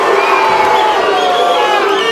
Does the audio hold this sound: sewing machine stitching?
no